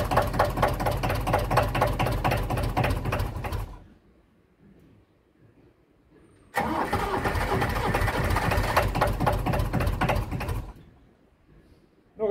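A 1962 Mercedes OM636 diesel engine in an old Esslingen DZ10 runs with a loud, close, rapid knocking chug, cuts out into near silence, then fires up and runs again before stopping.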